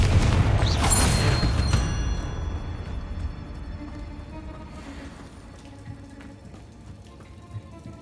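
A Confringo blasting spell explodes in Hogwarts Legacy, a loud burst with crackling debris that decays into a long, fading rumble and scattered pattering.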